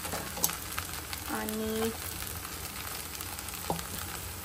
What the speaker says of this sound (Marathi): तर यात जाते शेंगदाणे आणि आलू, फ्राय केलेले आलू